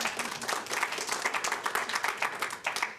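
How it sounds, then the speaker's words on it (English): Audience applause fills the room after a fundraising total is announced, dense steady clapping from many hands, loud and continuous throughout. "you all better start clapping about that right now"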